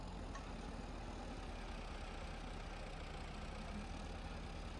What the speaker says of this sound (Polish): Wiecho, czemu ten ciągnik tak mieli?